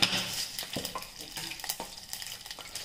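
Mustard seeds and a little urad dal added to hot oil in a pan, crackling and sizzling close up with soft stirring scrapes and small popping bursts, fairly quiet and with no talk.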